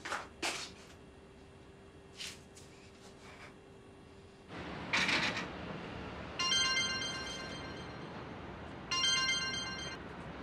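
A telephone ringtone in a Turkish TV drama plays an electronic melody in two bursts, near and clear, after a few scattered quieter sounds.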